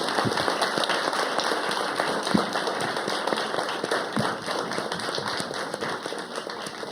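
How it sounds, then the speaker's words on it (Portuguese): Audience applause at a book launch event, dense steady clapping from many hands filling the room throughout, with a few sharper claps standing out. "eu gostaria de primeiro finalizar a mesa para ter as palmas de vocês, o Fábio, Roberta."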